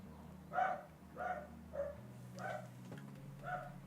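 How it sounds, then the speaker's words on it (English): A dog named Riley barks at home indoors, about five separate woofs spaced roughly half a second to a second apart, moderately close, over a low steady hum. "Barking at everything."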